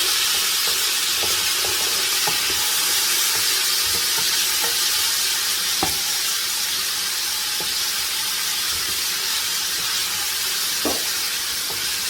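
Chicken fajita vegetables sizzle steadily in a hot pan, a continuous bright frying hiss with scattered soft clinks and scrapes of stirring, close and alone without talk.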